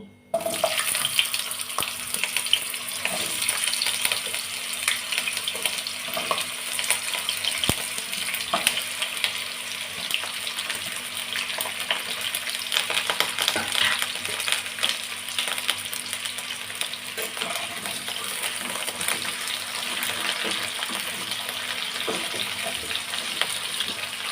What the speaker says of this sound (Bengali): এরপর আমি লাল লাল করে আলু আর বেগুনগুলোকে ভেজে নেব।